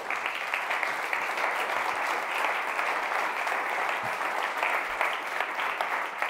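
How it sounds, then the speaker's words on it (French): Steady applause from a conference audience at a corporate climate day event, clapping for Fabrice; an even, continuous patter at moderate distance without a break. "je pense que vous pouvez l'applaudir"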